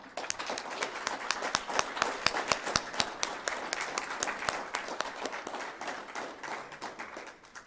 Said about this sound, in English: Please join me in applauding our Air Force's newest leaders.